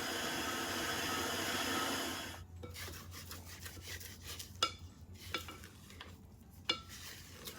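Eggs are mixed into butter pecan cake batter: a steady scraping rub of a utensil against a bowl, then softer intermittent stirring strokes with occasional light clinks, close and moderately quiet.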